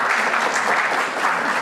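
An audience claps together in a dense, steady burst of applause, loud and even throughout, with no clear voices over it.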